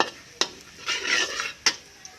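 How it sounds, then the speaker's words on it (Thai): Garlic being fried until golden in a pan, a spoon or spatula scraping and knocking against the metal twice, with a soft sizzling stir in between. "เจียวกระเทียมให้เหลืองก่อนค่ะ"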